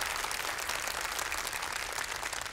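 Studio audience at a Quran recitation competition on television clapping in a continuous, even burst of applause, moderately loud and without talk.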